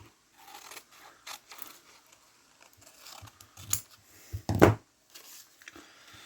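Scissors snip through touch sensor pads in a few quiet, scattered cuts, with one sharper, louder crunching snip near the end; no talking.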